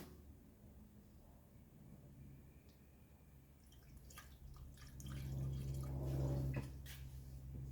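Coolant trickling and splashing into the reservoir of a 1985 Mercedes 300D, a soft liquid pour that swells louder in the second half before easing off, with no talking.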